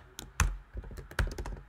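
Quick bursts of typing on a computer keyboard, a handful of close, crisp key clicks and thunks in an irregular rhythm, quiet and alone.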